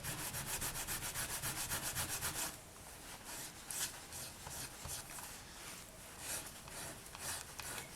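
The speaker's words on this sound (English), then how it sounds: "I do want to just see what happens if I just sand these edges." Polymer clay pendant edges are rubbed with sandpaper in quick, rhythmic close strokes, then slower irregular scraping passes, fairly quiet with no speech.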